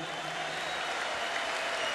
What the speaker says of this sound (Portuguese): Eu quero palmas para o senhor